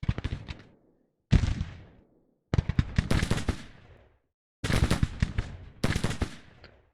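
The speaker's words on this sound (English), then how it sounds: "The artillery is firing." Artillery firing in the video game Grand Tactician: The Civil War, four or five loud, close bursts of rapid cracking reports, each fading out before the next, separated by silent gaps.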